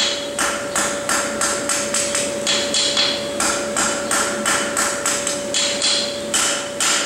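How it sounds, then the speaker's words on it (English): A farrier's hammer taps the corners of a plain-stamped steel horseshoe, about sixteen sharp, evenly spaced ringing strikes in steady rhythm, close and loud with no talking. "Tapping the corners and then bringing it back around."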